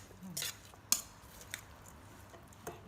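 Salmon larb salad with plenty of vegetables being tossed together, quiet clinks of a spoon against a bowl and soft wet mixing sounds, close and faint.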